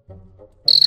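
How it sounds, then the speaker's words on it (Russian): A cricket gives a short, sharp, high chirp that cuts in suddenly after a brief low murmur, close and clear. "Сверчок."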